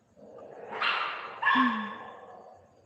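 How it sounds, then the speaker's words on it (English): A single dog barks twice in a quiet indoor setting, two short, fairly loud, rather harsh barks about half a second apart with nothing else heard. "Sir Jimmy Moore barks"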